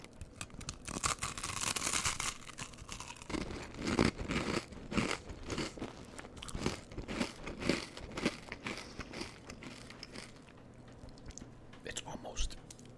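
Close, crisp crunching and chewing of a homemade Rice Krispies treat, repeated bites with crackly detail and small crumbly rustles between them.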